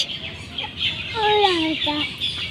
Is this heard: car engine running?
no